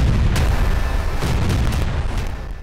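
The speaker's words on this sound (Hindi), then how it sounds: "क्रीमिया के सेवास्तोपोल में बड़ा धमाका हुआ है।" A heavy explosion at Holland Bay in Sevastopol, Crimea, delivers a loud, deep rumbling blast that rolls on with sharp bursts layered over a sustained low roar, slowly fading near the end.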